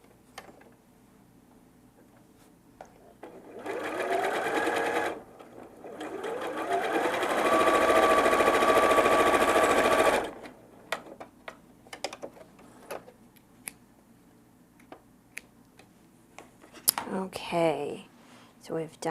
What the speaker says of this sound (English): when I go to the sewing machine, I'm going to turn it over so I'm sewing with the biased edge towards the feed dogs